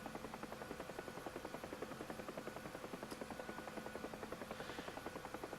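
A UH-1H Huey helicopter in the DCS flight simulator flies steadily, its rotor producing a continuous rhythmic blade thump over a droning turbine whine, loud and constant throughout.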